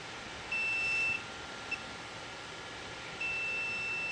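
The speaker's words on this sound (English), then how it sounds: "Lots of beep." A multimeter checks the continuity of a failed compressor's terminals, giving a sustained high beep, then a tiny blip, then another long beep that continues to the end. The beeps sound over a quiet background hiss, with no voices.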